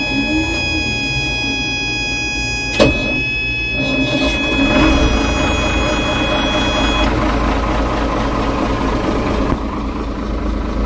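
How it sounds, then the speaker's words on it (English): A boat's port engine cranks and fires up, settling into a steady low idle rumble with a sharp click near the start, heard close and continuous throughout. "let's fire up this port engine"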